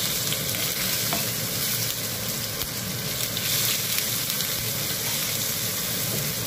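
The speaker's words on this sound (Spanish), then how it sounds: "Y cuando los ajos empiezan a coger un poquito de color, vamos a rehogar unas gambitas." Shrimp sauté in a pan of browning garlic for Spanish rice with prawns, giving a loud, dense, continuous sizzle with a faint stirring texture and no pause.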